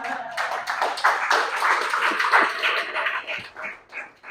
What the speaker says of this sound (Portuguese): Uma salva de palmas para a dona Marta.